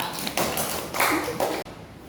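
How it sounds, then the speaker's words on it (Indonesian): Classmates in a classroom clap briefly for a fellow student, a short burst of scattered hand claps lasting about two seconds before stopping abruptly. "Tepuk tangan untuk kawan kita"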